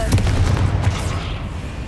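A Confringo fire spell blast in the video game Hogwarts Legacy, a dense, roaring burst of noise that fills the moment and slowly fades.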